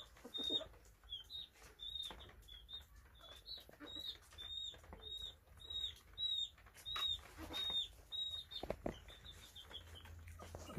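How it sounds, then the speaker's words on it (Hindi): Hens kept together with one small chick during winter, a thin high peeping chirp repeating steadily every half second or so, with soft clucks, rustling and occasional wing flutters nearby. "सब के दरमियान ये एक छोटा सा चूजा,"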